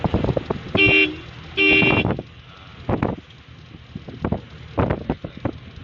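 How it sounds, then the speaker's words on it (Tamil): Two sustained car horn blasts close by, one just under a second in and another around two seconds, followed by road and wind noise. "ஹார்ன் அடிங்க."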